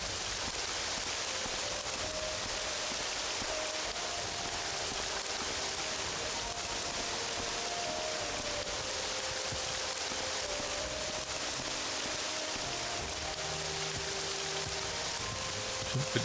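Steady, loud rain pours without a break in the video game Morrowind, a dense hiss of falling drops that fills the whole scene alone with no talk.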